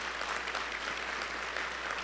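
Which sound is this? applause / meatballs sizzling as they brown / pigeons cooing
applause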